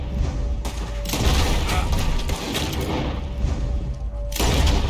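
Gunfire in Red Dead Redemption 2 during a fight around a wagon, heavy booming shots and rumbling reports overlapping in a continuous loud barrage, with sharper cracks at the start and end.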